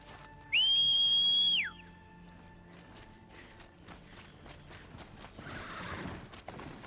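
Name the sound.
whistle and Strider machine mount in video game Horizon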